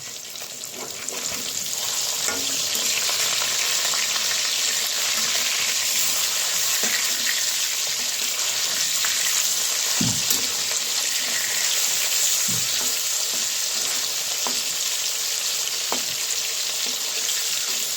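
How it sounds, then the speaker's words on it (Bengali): Pieces of snakehead (shol) fish fry in hot oil in a home kitchen, a continuous loud sizzle with occasional pops and stirring knocks that runs steadily throughout, with no talking. "মাছটা ভাজতে ভাজতে মশলাটা করে নিই"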